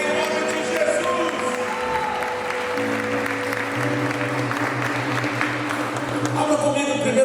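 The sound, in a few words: church congregation applauding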